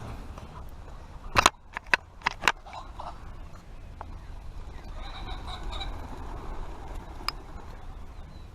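Grey partridges call inside an aviary with several sharp, loud bursts early on, then softer scattered calls over a constant outdoor rumble.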